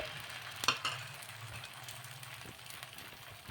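Peanut dosa batter frying on a hot pan, a quiet continuous sizzle with a couple of brief clinks near the start.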